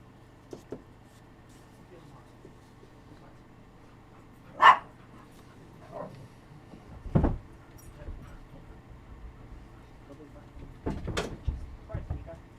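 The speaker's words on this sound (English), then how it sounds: "Sounds like my dogs are trying to murder my brother going upstairs" Dogs bark in a few short, separated outbursts from another part of the house as someone heads upstairs, distant and muffled, with scattered thumps between them in an otherwise quiet room.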